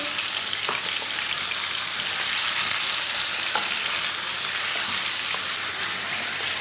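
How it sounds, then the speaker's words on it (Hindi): One kilogram of goat meat fries in hot oil in a pan, giving a loud, dense, continuous sizzle that stays steady throughout, close up with no talking. "गोश्त डाल के इसे 2-3 मिनट के लिए फ्राई कर लेंगे।"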